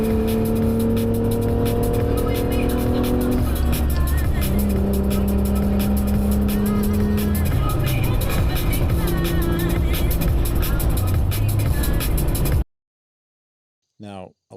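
A 16-year-old Toyota Tacoma pickup with a manual gearbox driven hard, its engine roaring loud and steady for about twelve seconds with rising and falling rev tones, then cutting to near silence with a brief voice at the end.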